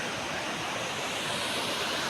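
Water pouring down in two branches at Jalagamparai waterfall, a loud, steady, close roaring wash of falling water filling the whole stretch without talk.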